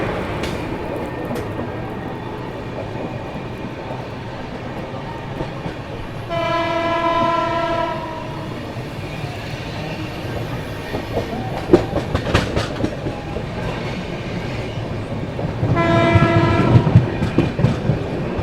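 The West Bengal Sampark Kranti Express, heard from on board, overtakes the Kolkata Jammu Tawi train with a steady rumble of wheels on rails, two long loud horn blasts, and clattering as the trains pass.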